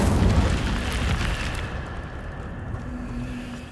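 An Incendio fire spell is cast in Hogwarts Legacy, producing a loud whooshing burst of flame that rumbles and fades over a few seconds.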